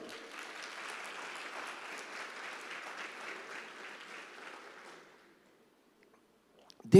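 A church congregation claps together for about five seconds at a moderate level, then the applause stops abruptly into near silence before a brief sharp knock at the end.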